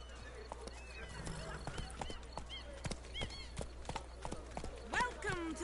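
Geralt's horse Roach in The Witcher 3: Blood and Wine, hooves clip-clopping in a quick galloping rhythm under game music and chirping birds, loud and continuous with occasional louder hoofbeats.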